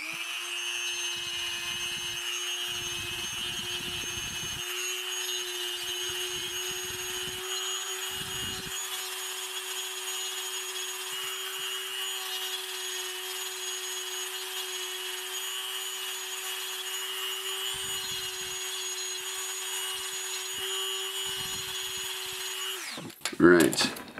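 A power tool sands down the knee joint of a plastic action figure, a steady high whine running almost the whole time with intermittent gritty contact bursts, ending with a brief clatter.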